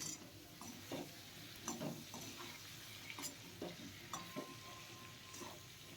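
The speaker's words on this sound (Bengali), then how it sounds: "খুব ভালোভাবে লাল লাল করে আমি আলুগুলো ভেজে নিচ্ছি।" Potatoes fry in a pan with salt and turmeric, a steady close sizzle broken by repeated scraping stirs of a spatula against the pan, with no talking.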